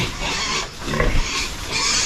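Pigs on a farm grunt and snort loudly and close by, a dense continuous stream of rough calls with a brief dip in the middle.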